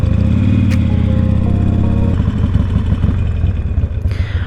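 Harley-Davidson motorcycle engine running a little rough, a loud, close, lumpy low-pitched idle with uneven pulses and a slight rise in revs, heard on its own.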